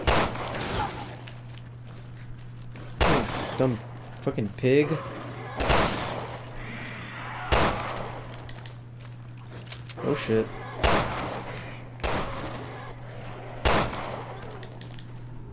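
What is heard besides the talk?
gunfire from a video game, Resident Evil Revelations 2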